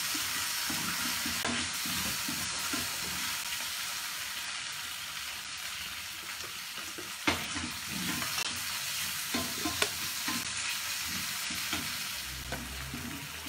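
Prawn and squid stir-frying in a hot pan give a continuous sizzle and hiss, with scraping stirring strokes and a few clinks at irregular intervals, close and fairly quiet with no talk.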